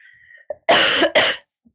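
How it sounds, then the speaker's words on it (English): Two harsh, forceful coughs burst out close by during a quiet somatic movement session, following a faint throat sound, then silence. "I'm really sorry about the coughs"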